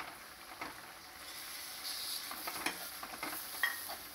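Tomatoes frying and being stirred in a pan of pork curry, a soft sizzle with scattered scraping stirs, faint and close.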